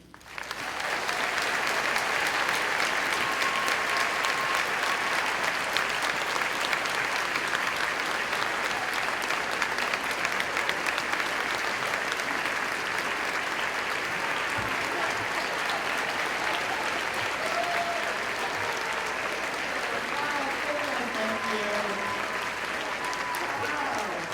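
Sustained audience applause welcoming speaker Heather McGhee at a 2023 community meeting in Winston-Salem, a steady roomful of clapping that holds at even loudness for the whole stretch, with a few voices and whoops mixed in.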